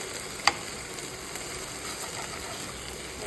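Okra (bhindi) frying in a pan while being stirred, giving a steady soft sizzle and hiss throughout, with one brief sharp clink of the stirring spoon near the start.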